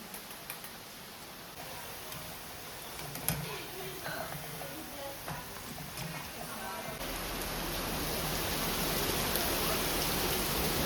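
Steady rain patters and hisses outside, growing denser and louder toward the end, with a few faint knocks and clicks.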